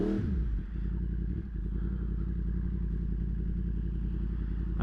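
A 2023 Yamaha MT-10 fitted with a Leo Vince slip-on exhaust rumbles along on a ride, its deep engine note loud and steady with a brief dip in throttle partway through.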